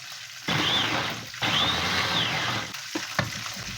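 An electric blender grinds onion, ginger and garlic with water in two loud whirring bursts, a coarse churning roar that cuts off into clattering handling noises.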